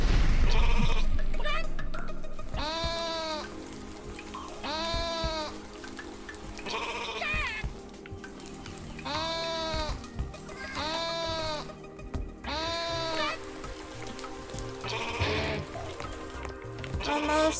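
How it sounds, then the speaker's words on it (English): Video-game sheep bleat repeatedly in a wavering, regular rhythm over a steady rain-like hiss. A person speaks intermittently over the bleats. "so now I just have the sheep left"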